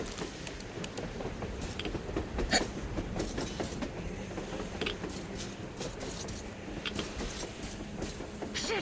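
Train passing on the surface in the Metro video game, a continuous clickety-clack rumble of rail wagons at moderate volume with occasional metallic clanks and squeals, no speech.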